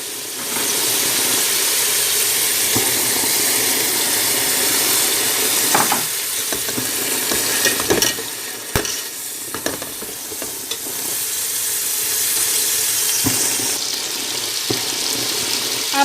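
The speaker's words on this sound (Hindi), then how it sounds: "अब हम इसमें अदरक लहसुन का पेस्ट डाल देंगे।" Ginger garlic paste sizzles and fries among browned onions for beef biryani, with a steady sizzle broken by repeated scraping and stirring clatters of a spoon against the pan.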